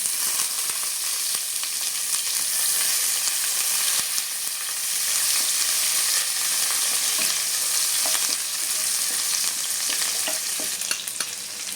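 Chopped onion with a pinch of salt fries in oil with cardamom, cloves and cinnamon, giving a loud, close, continuous sizzle broken by light stirring scrapes; no speech.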